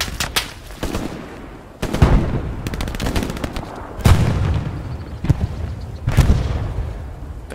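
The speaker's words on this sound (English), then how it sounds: "we're taking fire now" Gunfire and machine gun bursts crack across a battlefield in the World War II shooter Hell Let Loose, several sharp heavy shots and rattling volleys spaced a couple of seconds apart, some near and loud, others more distant.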